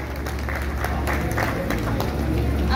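Applause from the audience at a jyotish conference ceremony in Sawai Madhopur, dense and sustained clapping from a crowd mixed with a murmur of voices, loud throughout.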